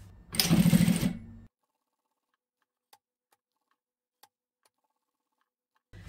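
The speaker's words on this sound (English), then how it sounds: "we're just going to stitch that down, come across, down, across again, and come back up." A sewing machine runs one brief close burst while stitching down the handle of a cosmetic pouch, followed by near silence with a couple of faint ticks.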